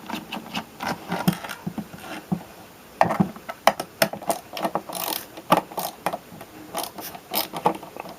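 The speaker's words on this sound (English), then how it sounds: "this would be a good time to use the ratcheting part for this, of this screwdriver" Ratcheting screwdriver unscrewing screws from a cheap stereo speaker, giving bursts of quick close clicking with short pauses between turns.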